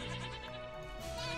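A Minecraft goat gives a short, close, wavering bleat that lasts barely over a second and rises slightly toward the end.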